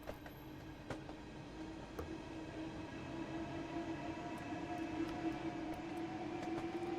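Thameslink train rolling past in the Train Sim World 6 simulator, a steady rail rumble with a sustained tonal hum that builds slightly in loudness, punctuated by faint clicks over roughly seven seconds, with no voices.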